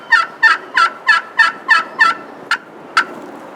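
A hand-operated turkey call imitates a gobbler's yelps, about nine short, loud, evenly spaced notes close by, the last two sharper and spaced farther apart, with no talking.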